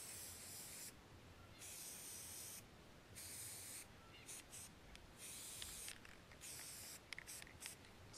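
An aerosol can of yellow spray paint hisses in a series of short, irregular bursts with brief pauses between them, close by but fairly quiet, painting a deer skull. No talking.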